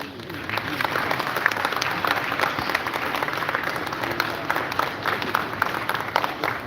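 Applause from the audience at an ECOWAS Parliament awards presentation, a steady, moderately quiet wash of many hands clapping that runs evenly throughout, a little distant in a large hall.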